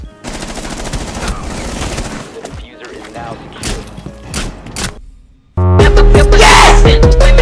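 Rapid automatic gunfire from a gun in the Rainbow Six Siege video game, sustained bursts of shots for several seconds with a brief lull, then a loud burst of game music and effects at the end.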